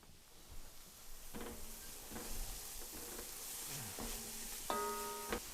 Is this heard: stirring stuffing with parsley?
yes